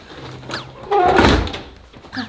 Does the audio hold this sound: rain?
no